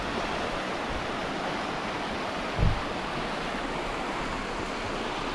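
Flowing water of a creek in New Zealand makes a steady, close rushing hiss that continues without a break, with one brief low thump partway through.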